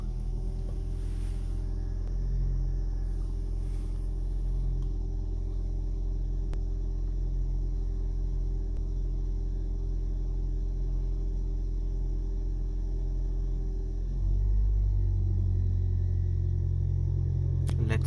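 Toyota Aqua hybrid car, started after cooling down, idling with a steady low engine rumble and hum throughout, growing slightly louder near the end.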